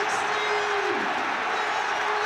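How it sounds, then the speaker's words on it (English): Dense, steady roar of a football crowd cheering a late West Ham penalty goal against Liverpool, continuous and loud with no pauses. "The loudest cheer of the night by a distance."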